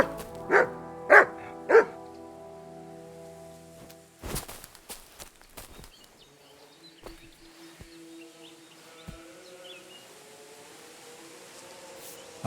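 Dog barking in the Kingdom Come: Deliverance II video game: three sharp barks up close at the start, then quieter rustles, footsteps and insect buzz in a calm outdoor scene.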